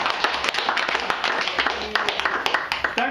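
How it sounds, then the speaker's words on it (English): Delegates at a cocoa sector meeting in Ekombe Bonji, Cameroon, clap in a scattered, moderately loud patter of individual hand claps, irregular and continuous, with some room noise underneath. "A round of applause once more for delegates, please."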